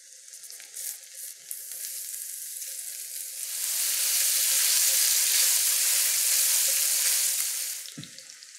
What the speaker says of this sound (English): we want to fry this down until it's all crispy little bits and all the fat is rendered out